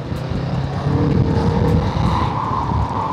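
A big bike motorcycle with a very quiet stock exhaust pipe rumbles past nearby, its low engine drone swelling and easing slightly over a few seconds with no talk.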